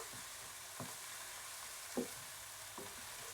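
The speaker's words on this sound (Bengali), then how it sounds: "নেড়ে নেব তারপর দিয়ে দিব আদা বাটা রসুন বাটা" Ginger and garlic paste stirred into a frying pan with prawns for a red amaranth leaf curry, a steady soft sizzle with a few scraping stirs of the spoon, quiet and with no talking.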